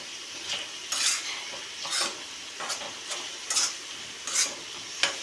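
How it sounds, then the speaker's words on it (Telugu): Paneer frying in a pan on a gas stove while a spatula stirs it, giving repeated scraping strokes about once a second over a steady soft sizzle, close by with no talking. "ఇది కలపకపోతే కింద అంటుకుపోతుంది, అందుకే కలపాలి."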